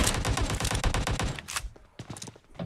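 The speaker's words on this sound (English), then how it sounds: "we've got some more gunfire over here" Gunfire in PUBG: a rapid burst of automatic fire for over a second, then a pause and a few scattered single shots, fairly loud and near.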